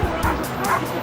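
A police dog yips and barks in quick, excited bursts during a street gang disturbance in Britain, close by, with crowd babble and voices mixed underneath.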